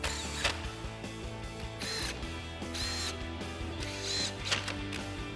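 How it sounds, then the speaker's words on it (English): A 10mm socket ratchet clicks rapidly and steadily while tightening screws during a headlight install on an F-150, close and continuous, with brief squeaky pauses between strokes. "So now we'll grab our 10mm socket and get our 4 screws back in up top."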